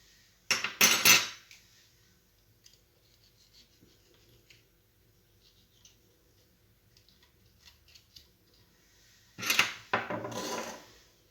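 Scraping and clinking of a metal utensil hollowing out a tomato, two short busy bursts at the start and end with a quiet stretch of faint handling between.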